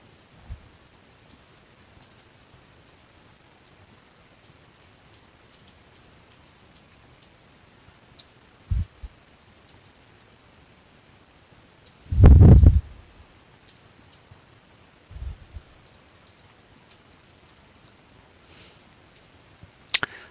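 Sparse light clicks from a computer keyboard being typed on, scattered irregularly across a quiet room, with one louder clatter midway and faint taps around it.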